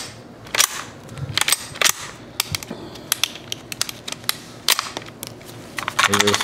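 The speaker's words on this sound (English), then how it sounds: "You can hear the rod rattling in the back there." An antique firearm is handled at an auction preview, with a loose rod rattling inside it amid sharp metallic clicks and clacks of the action, close and intermittent, with someone talking over parts of it.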